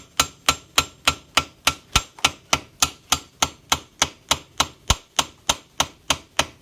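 A cheap hammer taps repeatedly at a steady, quick rhythm, about eighteen sharp metallic strikes, as a straight wire O-ring about 12 inches long is driven into place on an RB30 engine part; close and loud with no talking.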